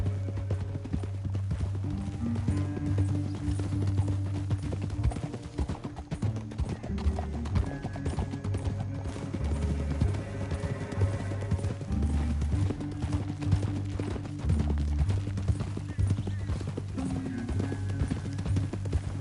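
Horses in the Red Dead Redemption 2 video game move with steady clip-clop hoofbeats and an occasional whinny, set under a continuous low music score throughout.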